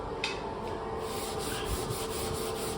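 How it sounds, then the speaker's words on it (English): Repeated scratchy strokes of a sponge sanding drywall, a continuous gritty rubbing with faint rhythmic pulses. "So there's your sanding test with a quote-unquote sponge or a rag."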